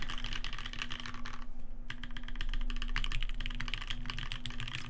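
Rapid, close keystrokes on a Reborn60 mechanical keyboard fitted with Cream switches, a busy clacking flurry with a short pause near the start before the typing picks up again.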